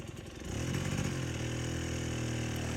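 KTM 150 XCW two-stroke dirt bike engine climbing from a sputtering idle into a sustained, buzzing rev as the throttle opens, loud and close with no talking.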